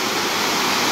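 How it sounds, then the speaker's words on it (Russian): A waterfall near Sochi/Adler on the way to Abkhazia gives a continuous, loud, broadband rush of falling water that stays steady throughout the brief moment, with no voices. "Здесь водопад."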